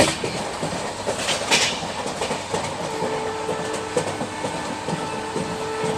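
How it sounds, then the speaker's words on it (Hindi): A train rolls steadily along with a continuous rumble and rhythmic wheel clatter, a faint squeal rising briefly partway through; no voices. "सूखे हुए रेगिस्तान में ट्रेन अपनी चल रही है अभी फ़िलहाल।"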